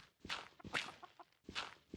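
Blocky Minecraft chickens cluck in a hardcore-mode world, three or four short, close clucking bursts separated by brief pauses with soft footstep-like taps between them.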